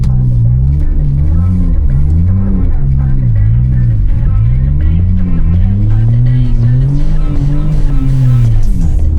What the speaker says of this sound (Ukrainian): Ми трошки вихлоп обірвали об цей сніг. Ну чого ж гудить